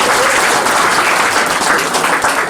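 An audience at an Uttarakhand community get-together in a Gurgaon housing society applauds steadily, producing a dense, even wash of clapping throughout.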